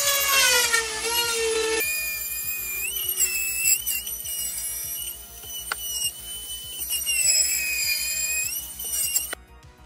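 A power tool cuts drywall beside a window, with a high whining, pitch-shifting motor over a rapid rhythmic chatter that runs loud and close throughout.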